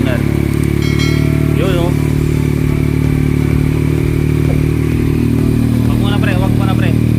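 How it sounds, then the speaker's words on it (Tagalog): A Yamaha MT-09 motorcycle fitted with an Akrapovic exhaust and dB killer runs with a steady, close engine rumble throughout, while people talk over it. "DB killer pa yan. May silencer pa. Sound check muna."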